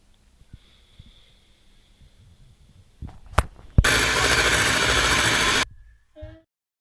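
An electric mixer whirs loudly and steadily for about two seconds as it blends sponge cake batter of beaten eggs, preceded by quieter clinks and handling sounds and followed by a brief trailing noise.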